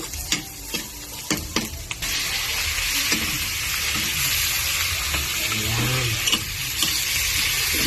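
Garlic sautéing with onion in a pan for ginisang spinach with tinapa, giving a loud, continuous sizzle that is broken early by several sharp clicks and scrapes of utensils against the pan.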